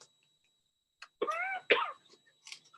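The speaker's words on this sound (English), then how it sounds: "you probably heard me coughing" Two hoarse coughs in quick succession, close and fairly quiet, with small throat noises before and after in otherwise quiet surroundings.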